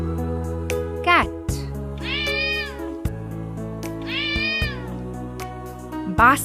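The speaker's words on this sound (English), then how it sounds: "Cat." A cat meows several times, drawn-out and clear, over light background music in a children's learning setting.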